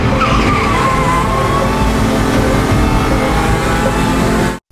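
Loud roaring stock car engines with screeching tires, a continuous high-pitched squeal over heavy engine noise that cuts off abruptly at the end.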